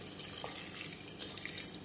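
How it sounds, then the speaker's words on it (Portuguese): Tap water runs into a cooking pot in a home kitchen as a soft, steady, quiet stream that continues throughout, with no voices. "eu vou acrescentar já um pouquinho de água"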